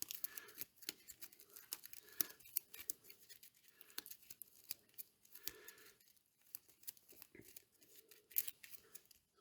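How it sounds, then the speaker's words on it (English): A deck of cards for the Mistborn deckbuilding board game is shuffled by hand, giving quiet, irregular riffling and sliding card noises with sharp little snaps, close and without talk. "we have to shuffle my deck"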